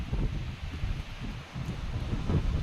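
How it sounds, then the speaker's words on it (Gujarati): Steady, loud wind buffeting outdoors, with a low rumbling roar and gusty rustle throughout, like breezy air at the shore. "દરિયાની મોજ ઠંડો ઠંડો પવન લાગે"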